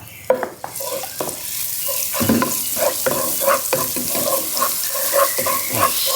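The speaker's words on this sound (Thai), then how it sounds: "เราจะมาผัดสามเกลอค่ะ" Sam kler aromatics stir-fry in pork lard, a loud, close sizzle broken by repeated rhythmic scrapes and knocks of a spatula against the pan, with no talking.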